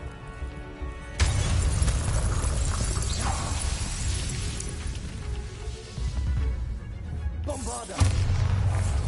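Bombarda blasting spell detonating in a video game: a sudden loud explosive boom that rumbles on for several seconds, followed by a second heavy blast near the end.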